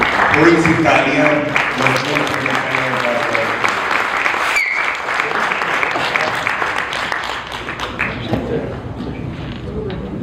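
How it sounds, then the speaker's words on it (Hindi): Audience at a poetry recital event in Houston breaks into sustained applause, thick continuous clapping with some crowd murmur and voices under it early on, fading slightly toward the end. "थोड़ी सी तालियां"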